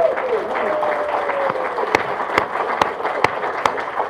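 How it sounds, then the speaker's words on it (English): Applause at an aquarium groundbreaking ceremony as sponsors are thanked: a steady crowd clapping with a whistle-like tone early on and several sharp, louder claps or knocks standing out near the end. "Give them a round of applause."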